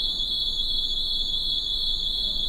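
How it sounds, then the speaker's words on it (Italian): Electronic alarm sounding during an Olbia election debate broadcast, a steady, piercing high-pitched tone held continuously at constant loudness over faint background hiss. "deve essere un allarme"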